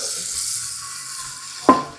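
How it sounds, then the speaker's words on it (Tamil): Onion, chili and turmeric bubble and simmer in a pot on the stove with a steady, close sizzling wash, ending in a single sharp clink of a utensil. "வெங்காயம் மிளகா கொஞ்சம் மஞ்சள் கொதிக்கணும்"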